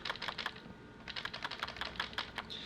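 A small object rattles and clicks in rapid bursts inside a shaken Yongnuo camera flash head, a quick clattering pattern from something loose close by.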